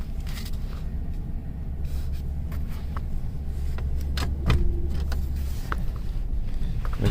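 Steady low engine and road rumble from a 2007 Mercury Grand Marquis driving straight with a faulty right front wheel sensor, heard from inside the cabin, constant and fairly loud with a few faint rattles.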